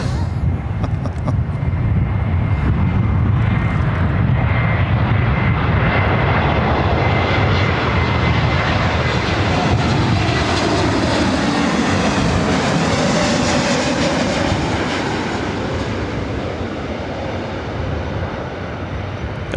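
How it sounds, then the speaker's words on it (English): Delta Boeing 757 jet airliner passing overhead at a busy airport, a loud broad engine roar that swells and shifts in pitch as it goes by, fading slightly toward the end. "Another Delta 757 heading over here to 24 right"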